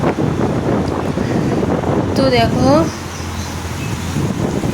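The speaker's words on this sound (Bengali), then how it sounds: "কতটা হাওয়া হচ্ছে বৃষ্টির সঙ্গে সঙ্গে খুব হাওয়া হচ্ছে" Strong wind roars steadily against the microphone, with a dense wash of rain beneath it; a voice speaks briefly over the blustery noise.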